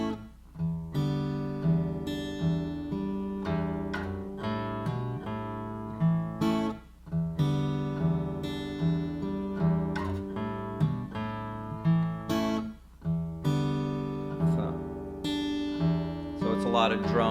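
An acoustic guitar plays a riff, droning on the low E with slides and hammer-ons, notes plucked in a steady repeating rhythm, close and clear.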